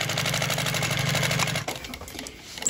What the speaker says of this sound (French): je vais coudre en suivant toutes ces lignes avec un point long